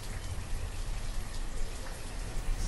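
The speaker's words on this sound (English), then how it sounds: "It gets pretty loud when it's raining." Heavy, continuous rain in the video game Banished, with a dense hiss and low rumble, loud and unbroken.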